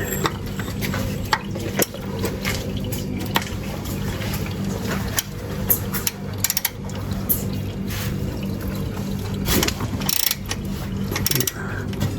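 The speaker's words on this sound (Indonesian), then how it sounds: "cara pembukaan filter olinya pakai kunci ratchet dan filter 64 atau 63 ya" A ratchet wrench loosens the oil filter on a Honda Jazz, clicking in rapid close bursts of pawl ticks over a continuous mechanical whir, no talking.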